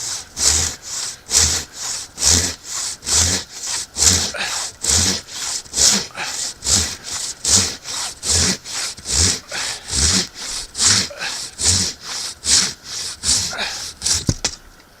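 A Silky Katana Boy pruning saw rasps steadily through wood in quick, even back-and-forth strokes, loud and close, continuing for many strokes with a brief clatter at the end.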